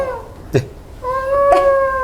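A person on a film set imitates a cat with a drawn-out wailing cry, its voice rising in a meow-like yowl after a brief soft thump. The sound is close and fairly loud, with no other talk.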